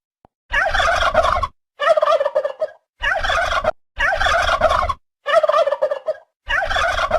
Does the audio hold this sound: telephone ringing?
no